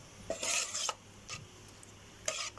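A spoon or whisk beats a mixture with curry powder in a bowl, giving a few short scraping bursts with quiet pauses between them.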